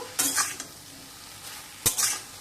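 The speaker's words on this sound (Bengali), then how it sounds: "ডাঁটাটা মজে এসছে এবার একটু নেড়ে নিয়ে আঁচটা বাড়িয়ে দেব" A spoon stirs pumpkin shoots frying in a pan, producing two short scraping bursts over a soft, continuous sizzle.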